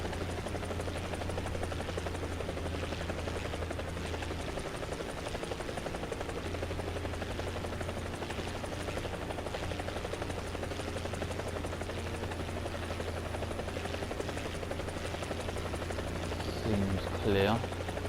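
A helicopter in War Thunder gameplay drones steadily with a continuous rotor buzz and low engine hum, heard close throughout with a few brief game sounds near the end.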